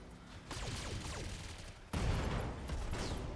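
Ammunition cooking off inside a mech in the video game Battletech: a sudden burst of crackling detonations, then a second, heavier blast, both loud and dense with rattling debris.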